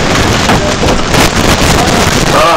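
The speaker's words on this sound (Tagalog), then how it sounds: "Hangin! Hangin!" Strong wind buffets the microphone in a steady, roaring rush of broadband noise with no clear voices.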